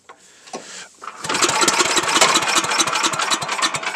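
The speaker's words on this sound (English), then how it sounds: "I'm going to start the motor." A small motor for leaf mulching sputters at first, then catches and runs loud and steady with a rough, rapid pulsing rattle for the rest of the clip.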